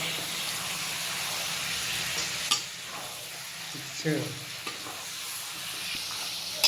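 Mutton fries in a wok with a continuous close sizzle, a few louder spits and pops breaking through, and a brief spoken word over the cooking noise.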